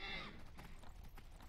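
A horse's hooves clip-clop in the video game Skyrim, a quick, faint run of dull thuds with a brief whinny-like tone at the start.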